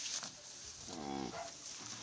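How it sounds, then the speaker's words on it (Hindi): A domestic buffalo on a hill farm in Uttarakhand gives a single drawn-out, moderately close moo over a faint outdoor background. "ये है हमारी भैंस"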